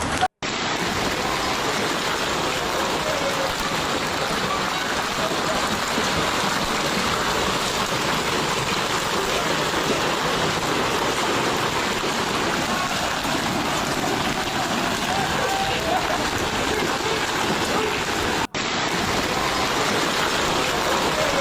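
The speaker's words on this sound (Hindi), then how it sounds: "भारी बारिश के बाद ओलावृष्टि आफत बन गई।" Heavy rain mixed with hail pounds down in Almería, Spain, a loud, constant broadband roar that barely changes, with one brief dropout near the end.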